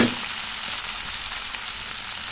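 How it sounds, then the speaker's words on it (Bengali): Bitter gourd frying in a hot pan of oil for shukto, a steady, even sizzle that holds close and loud from start to finish with no voices. "উচ্ছেটা কিন্তু আগে আমি ভেজে নেবো ভালো করে ভেজে নেব"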